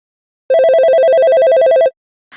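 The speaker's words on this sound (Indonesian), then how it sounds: "tiba-tiba perangkatnya berdering" A phone rings in the video game Avatar World, one loud electronic trill of rapid warbling pulses lasting over a second, then a brief faint blip after it.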